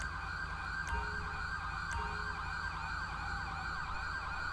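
Ambulance siren in the police video game LSPDFR, a continuous wailing siren sweeping up and down at moderate distance, with two short sharp clicks and no talking.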